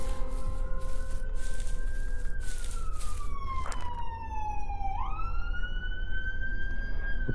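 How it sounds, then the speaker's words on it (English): A wailing siren sweeps up and down outside a house, a steady electronic tone rising and falling through the clip, fairly loud and continuous with no talking over it. "Sirens outside the house that might pick up."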